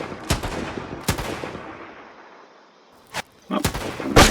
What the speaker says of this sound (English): That explosion was very aggressive.